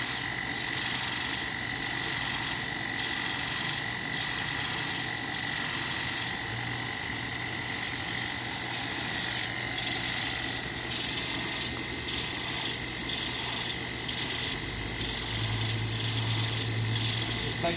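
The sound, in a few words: 2x72 belt grinder shaping a steel sewing awl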